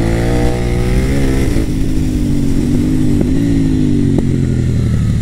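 A KTM Duke 890 R motorcycle engine revs up under acceleration, a loud close throaty roar rising in pitch, easing briefly, then pulling again.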